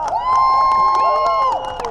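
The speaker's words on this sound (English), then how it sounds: "give them a round of applause" Spectators at the Menai Strait Great Raft Run cheer, a long sustained shout carrying over a noisy, excited crowd with scattered sharp sounds.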